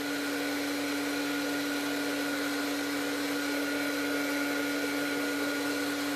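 A handheld heat tool blows steadily over a mixed media planner page, a constant whirring hum with a strong steady tone, unbroken and close throughout.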